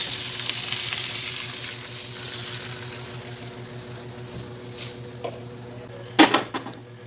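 Soda poured into a pan of mud crab, a steady sizzling fry with faint bubbling, then a few sharp clatters of stirring toward the end.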